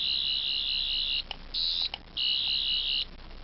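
A 10th and 11th Doctor sonic screwdriver toy emits high, electronic warbling buzzes in several bursts with short gaps, fairly faint and alone.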